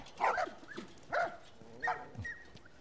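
Dog barking in the video game The Last of Us: three separate barks about a second apart, moderately close and fairly quiet over a low background bed.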